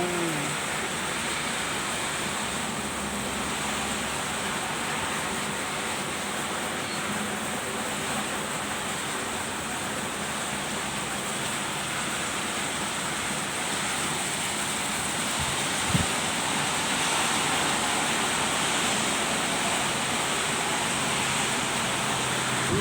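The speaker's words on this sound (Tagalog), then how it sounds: "ay, ang lakas ng hangin." Steady, loud broadband rush of strong wind buffeting outdoors in the rainy season, continuous for the whole stretch, with a brief thump partway through and no talking.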